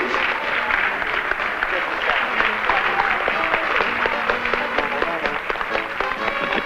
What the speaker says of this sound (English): Let's give all of the contestants a very big round of applause